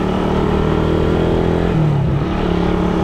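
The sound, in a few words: Suzuki Raider 150 motorcycle being ridden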